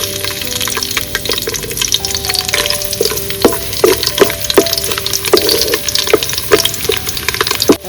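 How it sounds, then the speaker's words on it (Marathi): Garlic frying in hot coconut oil for a Malvani village-style colocasia leaf curry, a loud close continuous sizzle with crackling pops and stirring clinks, no voices. "तेल तापला त्याच्यात टाकतोय मी आधी लसूण"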